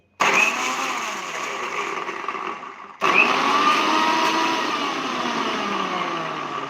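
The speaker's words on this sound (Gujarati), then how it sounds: "અહીંયા મિક્સર જારમાં આપણે ચાલુ બંધ ચાલુ બંધ કરી અને મસાલાને પીસી લેશું" A mixer grinder jar grinds spice masala in a loud, steady whirring whine, switched off briefly and then started again for a second run.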